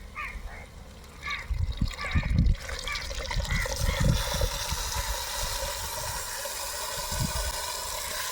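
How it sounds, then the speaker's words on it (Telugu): Fish curry gravy being poured over pieces of valaga fish in a cooking pot, a steady liquid trickle and splash that runs for several seconds, with faint voice-like sounds in the background. "ముందుగా కలుపు చేసి పెట్టుకున్న చేప ముక్కలలో చేప పులుసునైతే పోస్తున్నా"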